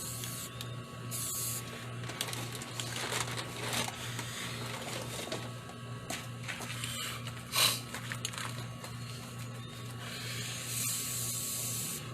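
Aerosol primer spraying onto a 3D-printed Aliens head, a steady close hiss running throughout over a constant low hum, with brief louder bursts.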